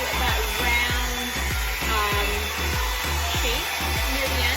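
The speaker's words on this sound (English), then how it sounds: "I like to turn the blow dryer in." A Marble beauty tools blow dryer brush runs with a steady, loud broadband whoosh and motor hum, interrupted by a series of soft rhythmic brushing thumps as it is worked through hair, with no talk.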